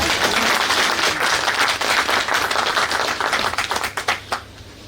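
Audience applause at an awards ceremony and poetry event, dense steady clapping from a crowd that thins toward the end into scattered individual claps.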